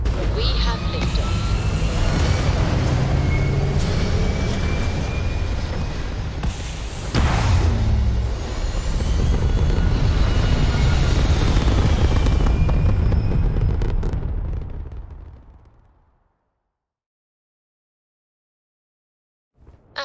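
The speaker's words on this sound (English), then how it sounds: "We have liftoff." Spaceship liftoff in the game Starfield: a roaring, rumbling engine blast with booming surges builds and holds loud for about fifteen seconds, then cuts abruptly to silence, with a brief click near the end.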